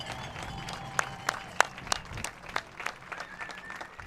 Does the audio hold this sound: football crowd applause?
yes